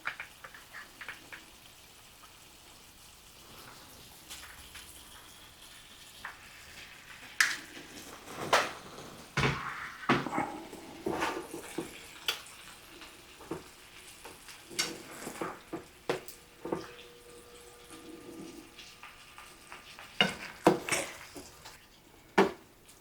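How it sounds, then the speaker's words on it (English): Tomatoes sautéing in a pan while pasta goes in and gets stirred for a tomato zucchini pasta, with intermittent clinks and scrapes of utensils against cookware over a low, faint sizzle, with no talking. "my tomatoes have been sauteing for about 3 minutes now, so I'm going to add in my pasta"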